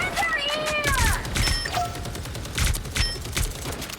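Rapid bursts of gunfire in the Marvel Rivals video game, with several close, loud volleys and sharp mechanical effects, while a voice talks over the shooting.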